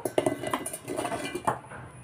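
Several pieces of onion clatter and tap against a mixer jar in quick irregular succession as they are dropped in, close up, with no voices.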